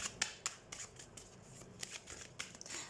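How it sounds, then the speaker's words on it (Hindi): Tarot cards being shuffled by hand, a quiet sequence of short papery riffles and flicks at irregular intervals, close and soft with no voices. "सबसे पहले हम कार्ड शफल कर लेते हैं।"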